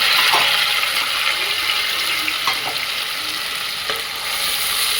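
Chopped onion, chili and tomato hiss in a hot oil tempering, a loud, steady close-up sizzle with occasional scrapes and clinks of a spoon stirring the pan; no voices.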